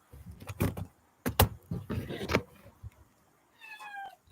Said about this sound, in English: I hear you meowing, but you can't come in.